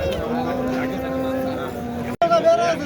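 Fattened oxen low at a busy livestock market in Boysun, Surxondaryo, a long drawn moo holding steady over crowd murmur before a brief gap and more voices.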